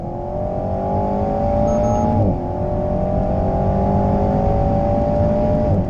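An Alpine A110S sports car engine drones steadily at high revs from inside the cabin, briefly dipping during a gear change before climbing again.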